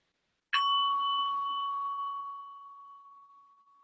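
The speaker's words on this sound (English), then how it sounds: "I'm going to ring this little bell here, a meditation bell." A small meditation bell is struck once, ringing out with a clear sustained tone that slowly fades over a few seconds in a quiet room.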